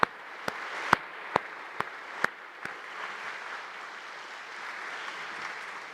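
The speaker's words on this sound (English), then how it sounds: "Let's give that a round of applause." Sparse applause for President Fiorentino at a Westchester University welcome back address: a handful of distinct, spaced claps up front over faint room murmur, then dying away into quiet ambience.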